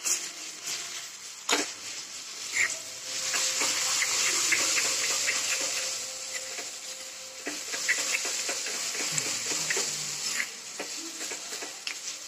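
Puree roasting in a pan with coconut, garlic and onion for an amti, giving a steady close sizzle broken by scraping stirs and occasional soft knocks of a spoon.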